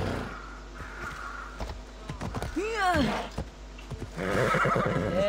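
A horse in the video game Assassin's Creed Odyssey lets out a loud, close whinny amid clopping hooves and game ambience, with a voice briefly heard nearby.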